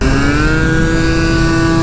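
A Honda Dio Elite scooter with a 120cc two-stroke stroker engine and new clutch revs steadily and loudly close by, a sustained buzzing drone with a high whine holding fairly level throughout.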